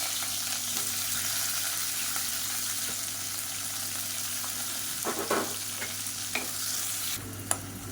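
Onions and whole spices such as cardamom sizzle steadily in hot oil in a pan, a constant close frying hiss with occasional scraping stirs and clinks near the end, no talking.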